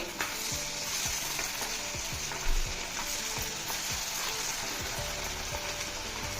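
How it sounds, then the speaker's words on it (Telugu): Carrot pieces deep frying in hot oil for spicy carrot 65, a continuous close sizzle with crackling pops and a faint occasional scrape. "ఆయిల్ కాగిన తర్వాత ఈ విధంగా ఒక్కోటి తీసి ఇందులో వేసుకోవడం డీప్ ఫ్రై అండి"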